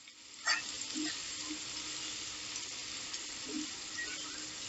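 Curry leaves still on their stems hit hot oil in a pan and crackle into a steady sizzle, with a few sharper pops near the start and a close, continuous frying hiss throughout.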